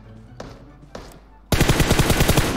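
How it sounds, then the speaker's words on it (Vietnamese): Rapid automatic gunfire in the mobile battle royale game PUBG Mobile, two bosses trading shots: a couple of faint muffled pops, then a loud, sustained burst of rapid shots through the final second. "Hai con boss đang bắn nhau"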